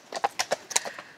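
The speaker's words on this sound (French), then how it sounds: "Vous avez des chevaux magnifiques" Magnificent horses on a 1000 km horseback journey arriving in Belgium, with riders in costume, clip-clop in a steady, close, loud rhythm of distinct hoof strikes on hard ground.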